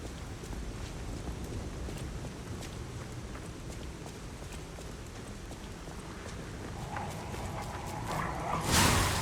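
An enemy dog in the game Lies of P growls and barks amid a dense, continuous wash of game noise and movement, the barks faint and mixed into the background.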